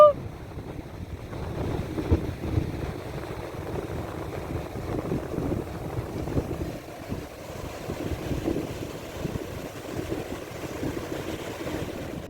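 Steady wind roars and gusts across the microphone for the whole stretch, a continuous low rumbling buffet with no one speaking.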